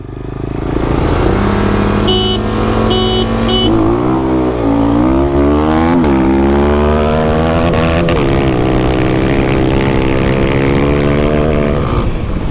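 A 2021 Kawasaki KLX300 dirt bike rides off road with its single-cylinder engine close and loud, revving up, holding, then climbing again in repeated surges of throttle.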